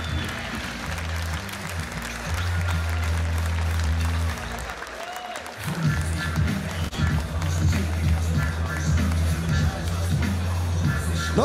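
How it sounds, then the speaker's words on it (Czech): A fight-night crowd applauds at a GCF combat event, steady clapping and crowd noise running the whole time alongside loud tonal music and arena sound. "A potlesk taky pro Savo Hitmana Laziče"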